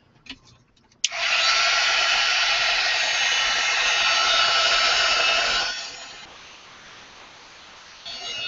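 After a few light clicks, a hair dryer switches on and roars steadily at close range while force-drying an art journal page made with a Gelli Arts gel printing plate, then drops to a lower hum before rising again.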